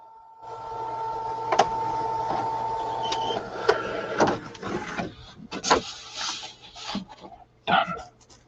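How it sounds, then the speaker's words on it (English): An office printer running through a print job, with mechanical whirring, a steady hum and a series of clicks and clunks as paper feeds. It is close and fairly loud, and nobody speaks. "Stop printing."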